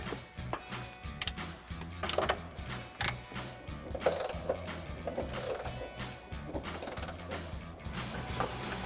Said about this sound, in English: Now we'll get our back one tightened up.